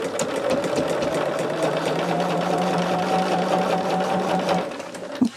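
Sewing machine stitches a diagonal seam across printed fabric scraps, a loud, close, steady run of rapid needle pulses with a mechanical hum that stops abruptly near the end.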